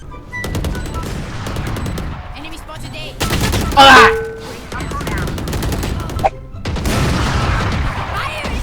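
Rapid bursts of gunfire from the Valorant video game, loud sustained automatic fire with a few louder blasts, under and between excited talk from players.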